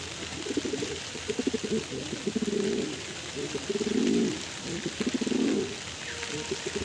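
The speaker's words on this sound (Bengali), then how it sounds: "দুটো কালপেটি পায়রা" A pair of Kalpeti pigeons coo in repeated soft, throaty bursts, close by, with short gaps between calls over a faint background hiss.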